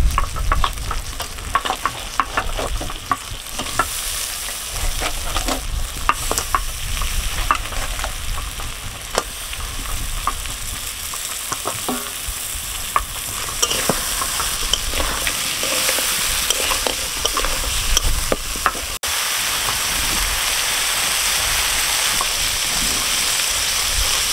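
Crab pieces sizzling and frying in a spiced masala, with constant loud crackling and frequent scraping stirs of a spoon against the pan, close and continuous with no talk.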